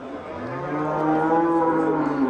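A cow at a livestock market in Bostanliq district lets out one long, loud, close moo that rises and holds steady, with no talk over it.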